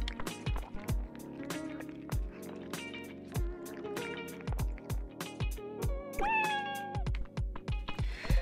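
A cartoon cat in the video game Dave the Diver gives a short, bright meow near the end, amid game music with plucky beats and sliding tones.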